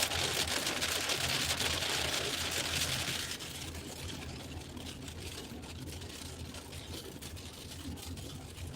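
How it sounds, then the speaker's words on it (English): Steady rain patters on a surface as a continuous hiss, heavier at first and then easing to a softer, even wash, alone with no voices. "Yeah, I know it's raining now."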